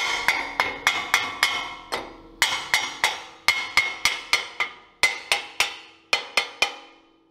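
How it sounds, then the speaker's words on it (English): A brass hammer taps a receiver hitch into place on a Spartan RZ HD zero-turn mower, giving about twenty sharp metallic strikes in quick groups with ringing decay, close and clear with no talking. "I'm just going to take my brass hammer."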